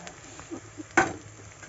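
Green chilies and garlic fry in a pan with a faint sizzle, and a single scraping stir sounds close and brief partway through.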